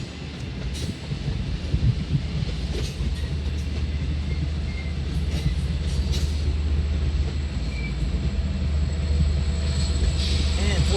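A Long Island Rail Road train led by a C3 cab car rolls past at night with a steady low rumble and wheel clatter, mid-distance and continuous.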